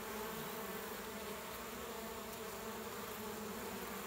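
Honeybees buzz densely around a hive entrance in autumn as foragers bring in pollen, a steady close swarm drone with no talking.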